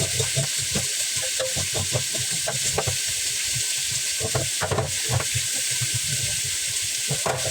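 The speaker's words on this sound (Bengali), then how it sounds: "ভালোভাবে উল্টে পাল্টে ভেজে নেব" Food frying in a hot pan and being turned over, a steady hiss of oil broken by repeated scraping and clattering strokes of a spatula, close and continuous with no talk.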